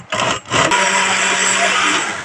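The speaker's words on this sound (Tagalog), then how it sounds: "Siya ang blender." A loud, steady motorized whir runs almost continuously after a brief start-stop, a blender churning a watermelon smoothie at high speed close by.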